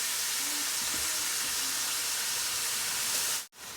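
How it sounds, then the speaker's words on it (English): Hot excess fat is drained from browned meat for cheesesteak sloppy joe sliders, giving a steady, loud broadband hiss like steam or pouring liquid that runs for about three and a half seconds, then cuts off abruptly. "we're gonna drain this, that way all the excess fat,"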